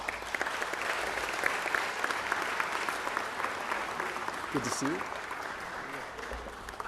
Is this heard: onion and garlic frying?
no